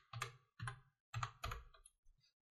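Faint, quiet keystrokes on a computer keyboard come in short bursts of clicks with brief pauses between them, as text is entered on a computer.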